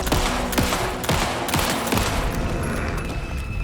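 Rapid bursts of gunfire from Alan Wake 2, a video game, crack out in quick succession, dense and loud at first and thinning toward the end, with no talking over them.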